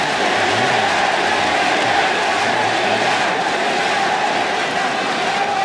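A large esports arena crowd at the League of Legends World Championship group stage chants together, a dense, loud roar with rhythmic rising and falling voices sustained throughout.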